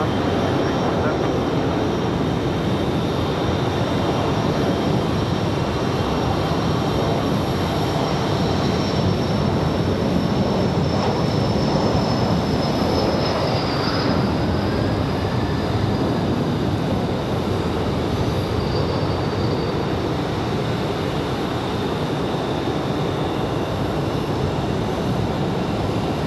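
An airplane takes off from runway 5 left at Raleigh Durham International, a loud, steady jet engine roar heard from a distance that holds throughout, with a faint rising whine partway through.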